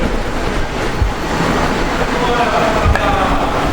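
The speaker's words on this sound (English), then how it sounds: "You get high-speed trains cruising along here, coming into town" A high-speed train runs across a bridge on its way into Nanning, giving a steady, loud rumble with faint rail clatter that fills the short clip and masks everything else.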